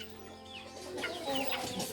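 A chicken clucks and squawks while being caught at a rural home, its agitated calls close and rising in intensity over rustling movement.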